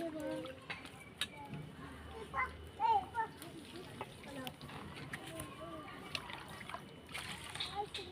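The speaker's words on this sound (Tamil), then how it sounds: "இப்போ இதோடைய துவரம் பருப்பு கழுவி போட்டுக்கலாம்." Toor dal and rice are washed in water for a one-pot sambar rice lunch, with soft splashes and sloshing that are loudest in a brief cluster midway. Someone talks over the quiet water sounds.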